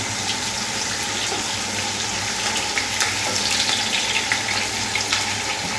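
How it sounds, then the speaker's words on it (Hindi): Chopped onions sizzle in hot oil in a pan for chicken korma, a steady close crackle and hiss held at an even level throughout, without talk. "और प्याज को हमने तब तक फ्राई करना है जब तक इसका गोल्डन कलर ना आ जाए"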